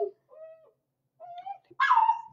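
An excited, agitated dog whimpers in thin, high whines, then lets out a sharp bark at the end, close by and without any talking.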